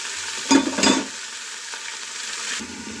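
Cauliflower frying in a pan, cooked without onion, garlic or ginger, gives a steady low sizzle broken by two loud scraping stirs near the start and a fainter one later, close by with no voices.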